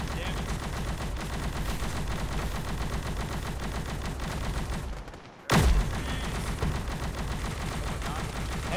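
Heavy gunfire in a video game rattles in dense rapid bursts, nearly continuous and loud, with one brief gap broken by a sharp blast before the shooting resumes.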